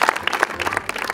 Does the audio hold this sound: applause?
yes